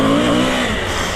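A 2020 Suzuki V-Strom 1050 XT adventure motorcycle on a dirt track, its engine droning steadily up close with a rising, revving tone and rough mechanical buzz throughout the short burst, no voices.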